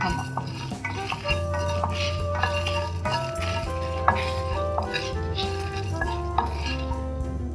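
Garlic and chillies are dry roasted in a pan without oil, giving a steady run of metallic scrapes, clinks and stirring knocks. A low hum and faint ringing tones sit underneath.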